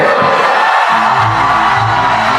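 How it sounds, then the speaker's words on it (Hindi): Audience at a speech event by Khan Sir at a university cheers and whoops loudly as a dense, continuous crowd roar, with no distinct clapping rhythm standing out. "एक बार जोरदार ताली बजा दीजिए खान सर के लिए।"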